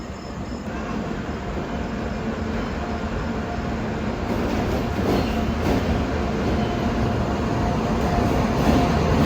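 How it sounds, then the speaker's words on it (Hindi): The Ferozepur–Rameswaram Humsafar Express, hauled by a WAP 7 electric locomotive, arrives with a broad continuous rumble of rolling wagons that grows slightly louder throughout, with no talking. "फिरोजपुर रामेश्वरम हमसफ़र एक्सप्रेस WAP 7 के साथ पहुंच रही है ये भी।"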